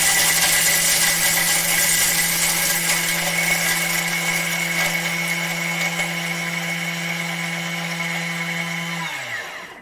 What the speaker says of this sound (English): we're going to chop it for 10 seconds, speed 10